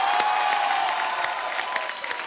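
A television comedy show studio audience breaks into brief, dense applause, close and steady clapping with a few louder claps standing out.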